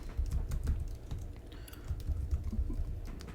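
Java code being typed on a computer keyboard: a quick, uneven stream of close key clicks and thumps lasting a few seconds, with no talking.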